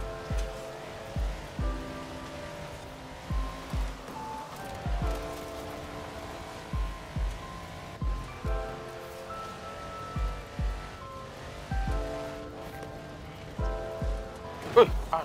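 Rain falls steadily during a race in the video game Forza Horizon 4, a soft continuous patter under a regular thumping beat and game music, with a voice talking at times.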